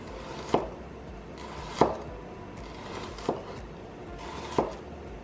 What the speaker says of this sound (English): So I just cut the whole onion.